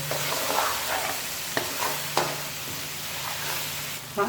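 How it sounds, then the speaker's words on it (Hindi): Dal mash stir-fried in a pan with garam masala and spice powder, a continuous sizzle punctuated by a few sharp spatula scrapes and clicks against the pan. "अब इनको भी हमने इसके अंदर भूनना है"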